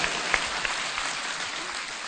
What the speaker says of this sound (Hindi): आप सभी माता बहनें सुंदर भारत के नौजवानों के लिए ताली बजाइए